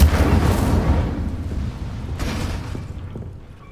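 The Incendio fire spell in Hogwarts Legacy bursts with a loud whooshing blast at the start, then a crackling rush of flame that fades gradually, with a smaller flare partway through.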